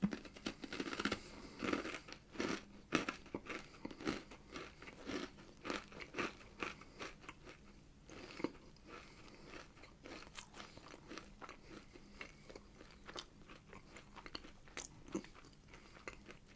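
Close, crisp crunching and chewing of granola in irregular bursts of bites and mastication, soft and intimate with no talking.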